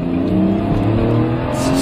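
BMW X5 3.0i six-cylinder engine accelerating hard in sport mode, a loud, steady, full-throated drone from inside the car that holds strong for the whole stretch without letting up.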